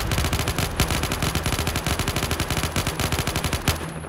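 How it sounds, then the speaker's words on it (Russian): Sustained rapid automatic gunfire in the video game Unturned, a dense, steady stream of loud shots lasting several seconds, with no voice over it. "Тем более я тут слушаю выстрелы."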